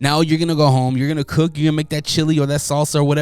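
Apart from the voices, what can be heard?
No everyday noise stands out behind the speech.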